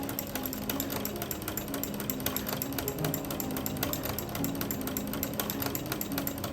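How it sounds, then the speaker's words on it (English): Home sewing machine fitted with a ruffler foot pleating pretty stash fabric every sixth stitch, a fast, even mechanical whir and rattle with a steady ratcheting rhythm, close and continuous without speech. "So you can see the foot just pulls it along. I had it set to every 6 stitches, and so every 6th stitch it pleats it automatically."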